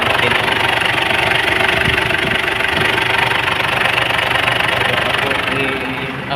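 A car engine with a P0093 large fuel leak code idles loudly and steadily just after starting, a rough, even drone that fades slightly near the end.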